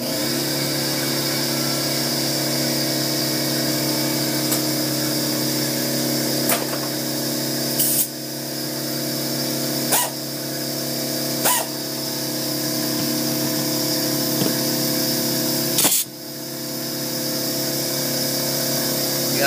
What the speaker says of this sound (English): it's called an impact wrench and an air compressor. So you're gonna hear some noise for a little bit